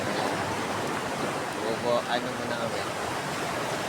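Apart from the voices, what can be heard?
waves on a beach at Patar, Bolinao, Pangasinan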